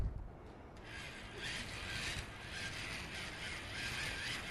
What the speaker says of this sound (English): Randy, I want you to crank.